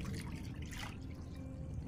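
Water pours and trickles into a container of homemade nata de coco mixed with a spoonful of baking soda, a close, steady liquid rush with no talking.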